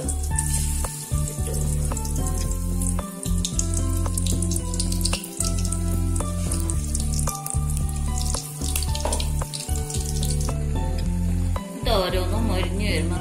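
Banana bajji fritters in batter sizzle and bubble steadily in hot oil, a constant loud crackling hiss with short breaks between stretches of frying.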